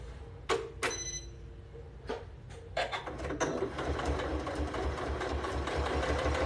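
A sewing machine stitches a thin double rolled ruffle hem, a few sharp clicks and taps first, then a steady whirring motor hum with a rhythmic pulsing beat, close and moderately quiet.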